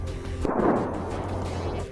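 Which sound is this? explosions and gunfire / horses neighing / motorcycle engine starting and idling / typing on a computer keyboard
explosions and gunfire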